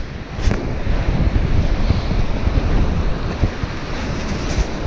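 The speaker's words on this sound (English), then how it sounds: "Pretty cool though that there are waves today." Steady waves wash against a rocky lake shore on a cold, windy day, a continuous loud rush of surf mixed with heavy wind buffeting the microphone, with no voices.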